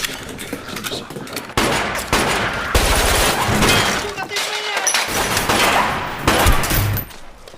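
Bursts of gunfire crackle through a violent film scene, dense rapid shots and sharp breaking impacts layered with loud action effects, while a narrator speaks over the chaos.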